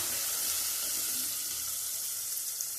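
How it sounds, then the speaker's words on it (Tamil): Chopped tomatoes sauté with oil and onions in a pan, producing a continuous, even hiss of frying that stays close and unchanging throughout. "இதையும் எண்ணெயோடைய வெங்காயத்தோடைய சேர்த்து வதக்கிடலாம்."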